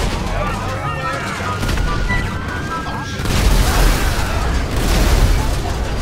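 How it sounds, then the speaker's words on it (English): Explosions and booms from the GTA V video game during a military base tank battle, dense rumbling blasts layered under continuous talking, growing louder in the second half. "There's so many explosions in this that it starts exploding in real life."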